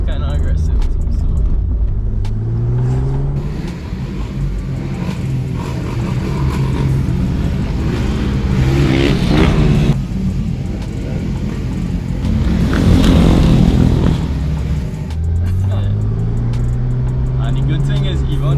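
A 700 hp Porsche 911 Turbo S pulls hard on a street, its engine note rising through gears in two clear acceleration sweeps, loud inside the cabin while occupants talk over it.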